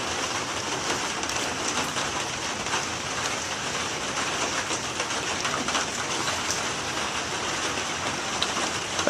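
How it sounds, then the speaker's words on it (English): Steady summer rain falling in Orange County, California, a dense even hiss of drops on surfaces filling the whole span without pause or voices. "summer rain is the best."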